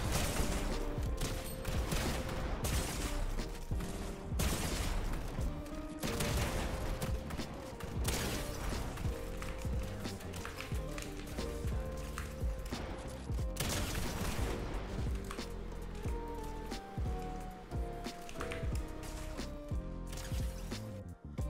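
Rapid, dense bursts of video game gunfire from headshot-map aim training, steady clicks of shots packed together across the whole stretch, loud and continuous with music-like tones underneath and no talk.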